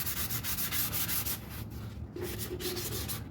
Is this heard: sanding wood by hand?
yes